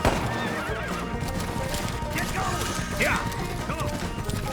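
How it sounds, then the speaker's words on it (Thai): Horses gallop at speed in a horse race in the video game Six-Guns, with rapid clip-clop hoofbeats and a neighing whinny up close while someone talks over the action. "นี่ครับการแข่งม้าจริงๆครับ"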